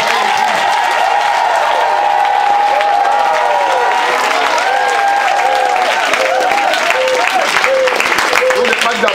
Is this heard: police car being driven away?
no